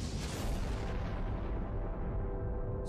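A deep, rumbling explosion, loud and sustained, with a heavy low-end roar that rolls on for a few seconds and stays dense throughout, with no voices.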